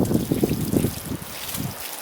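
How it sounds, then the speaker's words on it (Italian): Water is poured onto freshly sown soil, a steady close splashing and trickling wash that lasts about two seconds before fading out. "Andiamo a buttare un pochettino di acqua"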